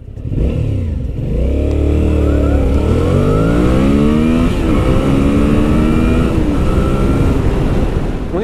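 A Suzuki V-Strom 650 XT V-twin motorcycle engine revs up hard, its deep throbbing pitch climbing through the gears, loud and close with no talking.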